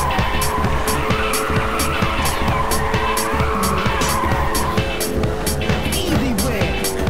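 Race car in an arcade racing video game droning at steady high revs while tires squeal and skid, a continuous loud engine tone with rhythmic game sound pulses over it.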